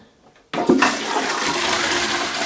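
A newly installed, freshly bolted-down toilet in an en-suite bathroom flushes with a sudden loud rush of water that holds steady, close and alone, with no talking.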